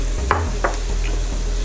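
Mushrooms go into a hot pan for beef stroganoff: a couple of quick close clatters and stirs over a low background sizzle, brief and without talk.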